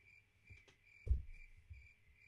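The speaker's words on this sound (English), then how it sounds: "Maybe it's the crickets that are outside." Crickets chirp steadily outside in a soft, repeating high pulse, with a brief thump and faint rustling passing over it.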